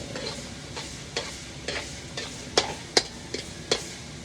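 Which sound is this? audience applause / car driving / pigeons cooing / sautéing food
sautéing food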